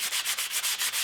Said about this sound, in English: So I'll use this side of my 220 grit